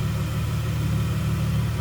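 Engine of a 2000 Plymouth Prowler idling with its hood open, a steady, smooth low rumble heard close and alone.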